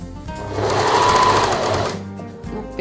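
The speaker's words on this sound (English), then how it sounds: "I'm going to sew across here, and then I can trim the edge off." A sewing machine stitching across elasticated briefs, a fast rattling run of needle strokes that starts, speeds up into a steady burst for about a second and a half, then slows and stops, close up.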